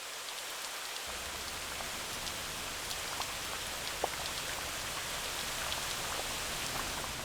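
Steady rain falling at dawn in a countryside yard, a continuous soft hiss of drops on surfaces with occasional distinct nearby drips, even and unbroken throughout.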